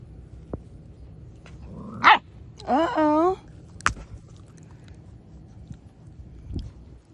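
Tri-colored puppies barking and yipping in a home, with a sharp bark near two seconds, a longer burst of high whimpering yips around three seconds, then a single short yelp, close and fairly loud over quiet room noise and faint talk.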